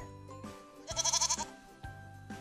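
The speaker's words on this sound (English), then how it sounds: "It's a sheep." Sheep bleating on a farm: one long wavering bleat with a quick trembling vibrato, set between several shorter bleats at even intervals, close and clear with no talk.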